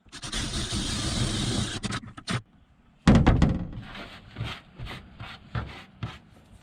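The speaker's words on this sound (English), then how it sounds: "Now I got to drill this big 3/4 inch hole for the rubber grommet that goes in there." A drill bores a 3/4 inch hole through a box truck roof for a rubber grommet, a steady grinding run for about two seconds, a pause, then short bursts and thumps of handling close by.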